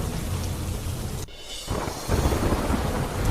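Steady rain with rolling thunder over Jetpur, a dense constant wash that dips briefly, then swells back louder and closer.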